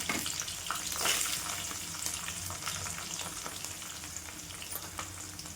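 Onion sizzles in hot oil with mustard seeds, cumin and curry leaves, a continuous moderately loud frying hiss with occasional crackles and a few soft stirring sounds.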